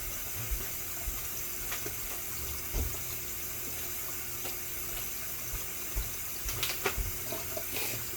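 Plant roots rinsed under a running tap while converting a plant from soil to semi-hydro, a continuous splashing water stream with small knocks and bumps throughout.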